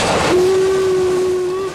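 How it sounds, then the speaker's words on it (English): A narrow gauge steam locomotive gives a loud, sustained whistle blast of about a second and a half, steady and close, with the engine's running noise rumbling underneath. "the steam engine crawls along the narrow gauge track"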